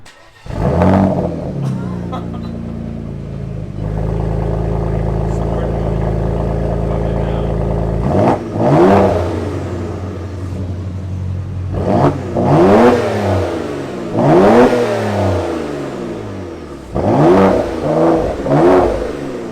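A warm Porsche engine starts with a deep, steady idle rumble, then its heated exhaust barks through several sharp revs that rise and fall in quick, loud bursts close by.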